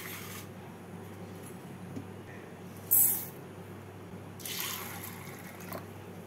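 Chana dal being rinsed with water in a bowl for a stuffed potato curry: short close bursts of splashing and pouring water with drips between them, over a quiet background and no talk.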